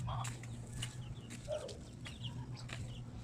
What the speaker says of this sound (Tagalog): Tingnan natin yung mga manok.